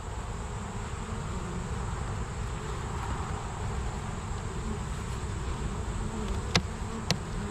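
Honeybees swarm the entrance of a hive with its reducer set to the larger opening, giving a dense, steady buzz close to the microphone, with a couple of sharp clicks near the end.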